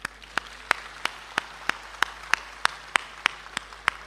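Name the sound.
audience applause at poetry recital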